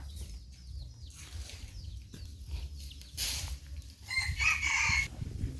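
Farmyard chickens cluck and a rooster crows loudly near the end, with overlapping bird calls and low rumbling background noise throughout.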